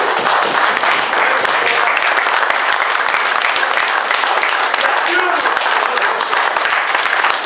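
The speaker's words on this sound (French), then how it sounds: "il faut les applaudir" A crowd at a hare-hunting hound pack competition applauds loudly and steadily for first-time participants, with a dense continuous wash of clapping and a voice speaking over it.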